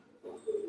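A pigeon, a female Teddy breed, gives a soft, low coo in two short pulses, close by and alone in an otherwise quiet setting.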